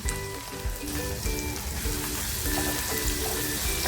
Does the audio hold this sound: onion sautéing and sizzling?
yes